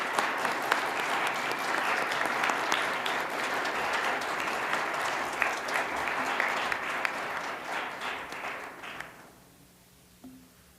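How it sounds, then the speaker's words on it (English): Families and guests applaud at a Scout court of honor ceremony, a full round of steady clapping lasting about nine seconds before tapering off into a quiet room. "Round of applause for Henry and his parents."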